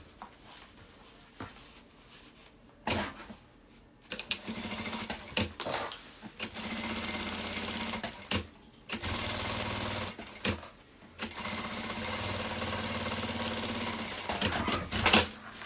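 A domestic sewing machine stitches elastic onto a women's handbag, running in several bursts of steady whirring with short pauses and small handling clicks between them, close-up and with no voices.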